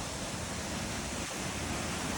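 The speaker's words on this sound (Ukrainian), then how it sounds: "Водоспад Гук в селі Татарові" The Huk waterfall in Tatariv village, which drops about 15 metres, makes a continuous loud broadband roar of falling water. The sound stays steady and unbroken throughout, with no voices.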